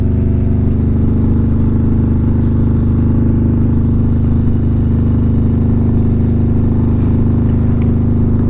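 A Harley-Davidson Street Glide motorcycle cruises along a road, its loud, steady engine rumble and wind roar constant and close with no breaks.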